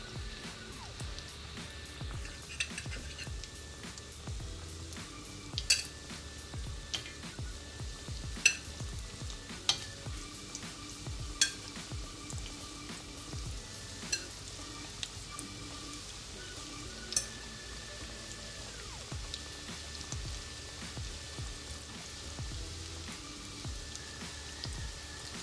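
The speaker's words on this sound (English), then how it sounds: "ipipito na natin siya dito sa may kawali natin with hot oil" Egg sticks fry in hot oil in a pan, giving a steady soft sizzle with scattered pops and crackles throughout, close by and with no talking.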